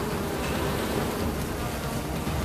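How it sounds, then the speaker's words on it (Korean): Wild bees swarm around a wild honeybee nest high in a tree in Cambodia, a dense steady buzz filling the air without pause, close and continuous with no talking. "40여 분의 작업 끝에 어느새 가까워진 야생 벌집."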